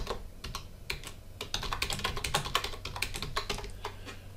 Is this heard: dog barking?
no